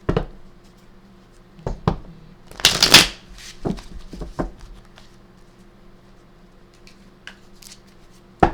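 A deck of cards is shuffled in a few quick riffling bursts, with soft taps and handling noises in between and a sharp click at the end.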